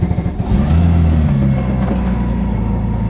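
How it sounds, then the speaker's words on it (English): Gunther Works turbocharged Porsche 911 flat-six engine running loud and close, a low steady drone with a brief rise in revs near the start, alone with no talk. "The noise from the flat six feels just like what you would expect out of a 911."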